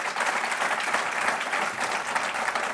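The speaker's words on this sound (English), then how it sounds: "that deserves a round of applause" A round of applause from the crowd at a basketball hall of fame acceptance ceremony, steady and even clapping throughout a brief stretch with no one speaking.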